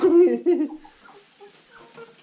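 Old hens on a farm give a loud, drawn-out cluck up close, followed by fainter, scattered clucking calls that trail off.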